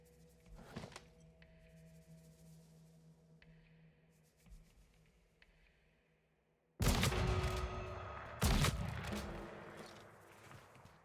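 Gunshots in the video game Weird West: quiet ambience with a few soft thumps and footsteps, then a sudden loud shot with a booming tail, followed a moment later by a second sharp blast.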